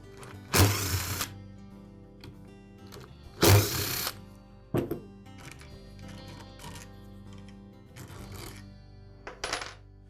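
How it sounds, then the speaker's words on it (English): Screws come out of the motor housing of a DeWalt miter saw, two loud short power-driver bursts followed by a few lighter clicks and taps in a quiet room. "We'll start by removing the 2 screws that secure the field to the housing."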